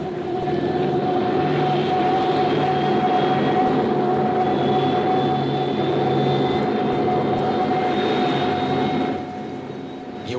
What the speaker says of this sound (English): You are listening to one of several jet bombers miles in the air. You hear the roar after the bombers have passed over your head.